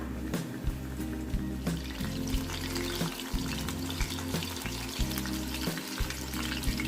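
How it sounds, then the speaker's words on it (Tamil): Chili chicken pieces deep frying in hot oil over a medium flame, a steady close sizzle and bubbling crackle with scattered pops and occasional soft stirring clinks, no voices. "அடுப்பை வந்து மிதமான ஃப்ளேம்லயே வச்சு இதை ஃப்ரை பண்ணி எடுக்கலாம்"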